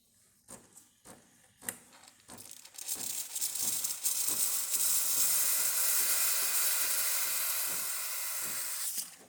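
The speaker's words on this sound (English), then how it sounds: "So let's test the steamer." Steam wand of a Breville Barista Touch espresso machine, opening with a few sharp clicks and taps before a loud, steady hiss builds and holds close up, with no talking.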